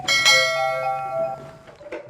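A telephone rings with a bright, bell-like electronic tone, loud and close, holding steady for about a second before fading into quieter chimes.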